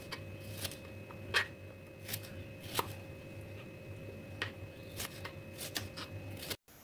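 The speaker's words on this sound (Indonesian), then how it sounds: "1 buah tomat hijau dibelah juga dan dipotong dadu." Green tomato being diced with a knife on a cutting board, about a dozen crisp, separate chops at an uneven pace, close and moderately loud over a faint steady hum, with no talking.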